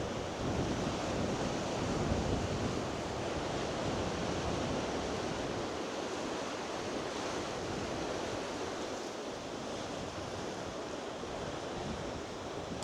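Heavy sea waves pounding on rocks at Portrush on a calm day, a loud continuous roar of surf and spray with steady wind buffeting, close by and with no voices.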